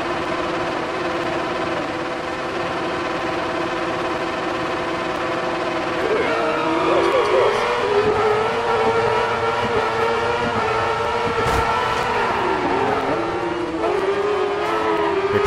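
A light crosskart racing in the DiRT 4 video game, its engine droning steadily then revving higher and wavering as it accelerates through a race, loud and continuous.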